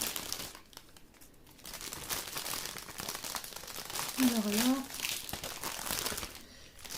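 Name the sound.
paper bags crinkling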